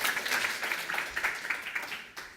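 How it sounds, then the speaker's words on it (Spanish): A church congregation claps together in a short burst of rhythmic applause that fades out after a couple of seconds. "Un aplauso"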